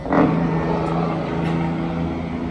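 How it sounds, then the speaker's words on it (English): A heavy truck's Jake brake rumbles steadily nearby with a rough, rattling low drone, loud and sustained throughout. "Excuse the Jake brakes in the background."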